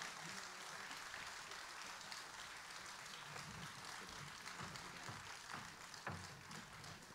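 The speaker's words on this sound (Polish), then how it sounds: "Wielkie brawa dla artystów." A concert audience at a patriotic song concert applauds the performers, a fairly faint but steady wash of many hands clapping that lasts throughout.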